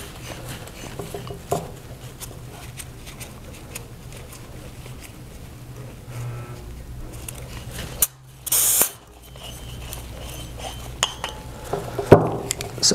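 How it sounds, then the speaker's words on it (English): A wrench works the regulator off a QUIK-jet air tank, with close ratcheting clicks and metallic clinks over a steady low hum, then a short loud hiss burst partway through. "And then the two on the air tank, we're gonna take our regulator off."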